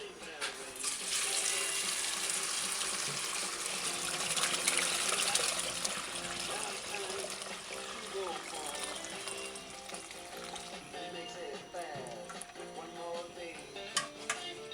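POR15 liquid sealer is poured out of a Suzuki F50 Cutlass motorcycle fuel tank, a steady gushing, sloshing pour lasting many seconds with small clinks near the end.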